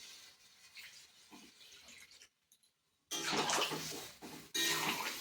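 Water poured into a pan of fried ridge gourd and potato, a broad pouring rush starting suddenly after a brief silence and running to the end with one short break, close and loud over faint earlier kitchen noise.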